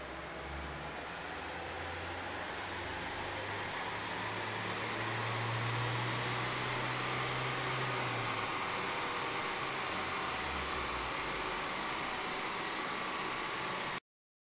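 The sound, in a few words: Ford Transit 2.2 TDCi van running on a dyno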